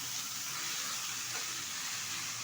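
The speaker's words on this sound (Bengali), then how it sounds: "ভালো করে নাড়িয়ে মিশিয়ে নেব।" Cabbage and spices sizzle in a hot frying pan, a steady soft frying hiss with faint scraping as the vegetables are stirred and mixed without water.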